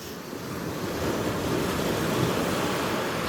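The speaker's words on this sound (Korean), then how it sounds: "파도가 엄청나게 휘몰아칩니다." Ocean waves surging onto a rocky, cliff-lined shore, a loud, continuous roaring wash that swells slightly, heard up close with no talking.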